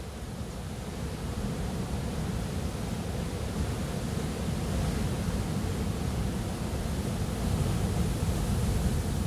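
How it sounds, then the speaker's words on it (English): Large ocean waves break and wash in a continuous, steady roar of surf, loud and even throughout with no voices. "The waves are still big."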